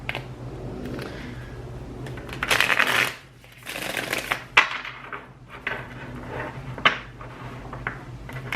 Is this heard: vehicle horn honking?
no